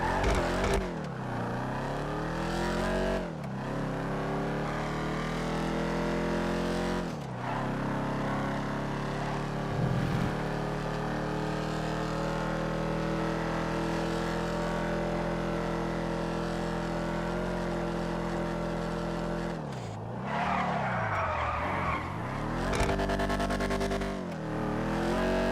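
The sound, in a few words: Dominator GTX car engine revving and skidding in a video game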